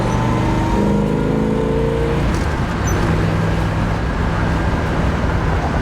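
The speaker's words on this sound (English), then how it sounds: "but it drives like a recently restored car from 1967." A 1967 Chevrolet Impala SS with a big-block V8 and four-speed manual cruises at road speed, its steady low engine drone and exhaust rumble loud and continuous, with a gear-like hum that shifts partway through.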